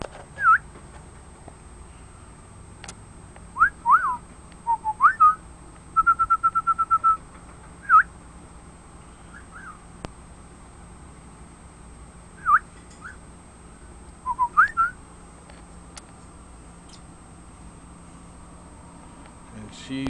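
A pet lovebird gives scattered chirps and whistled calls, including a quick rapid run of notes, close by over a quiet indoor room hum with long gaps between.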